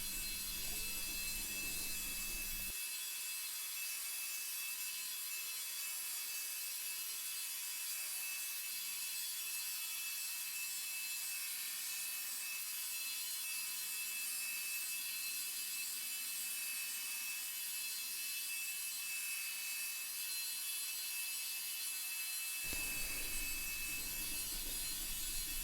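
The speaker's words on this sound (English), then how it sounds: "Quick check for square and off grinding again." Belt grinder grinding the bevel on a knife blade in beginner knife making, a loud steady high-pitched abrasive whine that runs continuously for about twenty seconds, with no talking.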